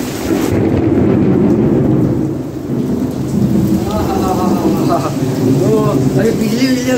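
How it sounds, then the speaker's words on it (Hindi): A heavy thunderstorm pours steady loud rain while a deep, long rumble of thunder rolls through the first half. A voice talks faintly in the second half under the downpour. "बिजली बहुत ज़्यादा कड़क रहा है अभी"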